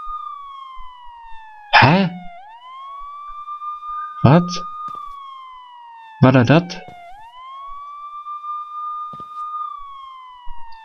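Police car siren in the stealth video game Sneak Thief, wailing in long steady rising and falling sweeps with a flat electronic tone, running continuously while someone speaks briefly over it several times.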